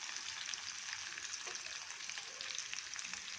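Fennel, cumin, bay leaf, green chillies, onion, curry leaves, cinnamon, cardamom and clove fry in oil in a pressure cooker, giving a steady, faint, even sizzle with no talking.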